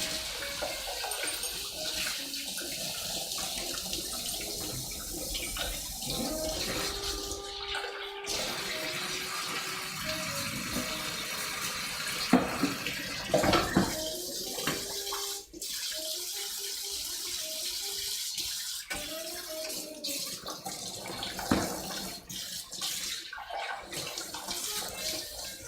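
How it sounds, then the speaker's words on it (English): A kitchen knife rinsed under a running tap while cooking moules basquaise, a steady close hiss of flowing water that shifts in tone as the blade moves through the stream, with brief clatters and no talking. "Quick wash of the knife."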